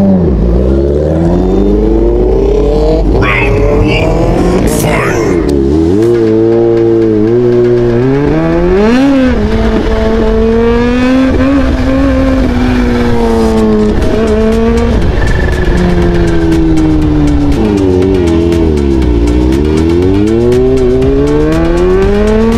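Kawasaki Z H2 supercharged motorcycle on a test ride, loud and close, with repeated hard accelerations through the gears, engine pitch climbing and dropping in several sweeping surges under constant wind noise.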